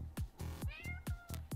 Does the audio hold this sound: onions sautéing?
no